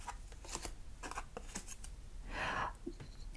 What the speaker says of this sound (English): I really did shuffle.